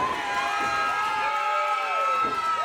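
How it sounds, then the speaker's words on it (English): A wrestling crowd at a KFW event cheers and shouts for Top Team, a steady, lively roar of many voices with whoops rising over it, heard from within the arena. "The crowd coming alive for top team"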